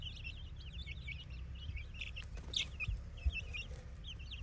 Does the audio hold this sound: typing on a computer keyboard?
no